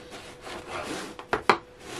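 A knife saws through stale bread, cutting slices about 1.5 cm thick, with a soft scraping rasp and two sharp crunchy strokes near the end, close and fairly quiet.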